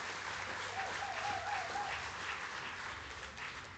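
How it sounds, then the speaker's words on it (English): An audience at a financial inclusion awards ceremony applauds, giving steady, even clapping from a large crowd that holds for a few seconds at moderate loudness and then tapers slightly. "Another round of applause for gender inclusive finance"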